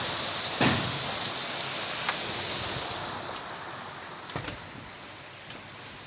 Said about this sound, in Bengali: হঠাৎ করে আবারও ঝুম বৃষ্টি নেমে পড়লো